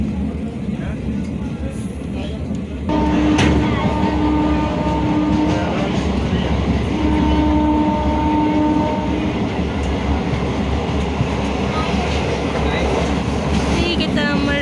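A passenger train travels from Dhemaji towards Digboi in Assam. It gives a continuous loud rolling rumble with rattling carriages that grows heavier after a few seconds, heard from inside the train with faint background voices.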